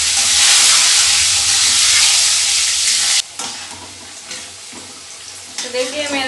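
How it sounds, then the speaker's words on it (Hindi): Potatoes frying in hot oil, with a loud, steady sizzle that drops sharply partway through to a quieter crackle and the scrape of stirring. "चिकन में मैं आलू दूंगी इसलिए इसे फ्राई कर रहा हूँ।"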